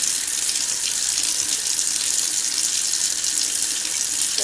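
Tap water runs steadily into a sink as a makeup brush is rinsed under it, a constant close splashing flow with no pauses.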